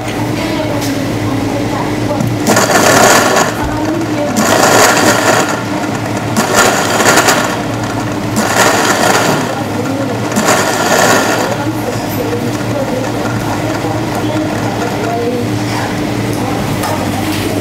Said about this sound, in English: then I'll put it on the blender just to break it up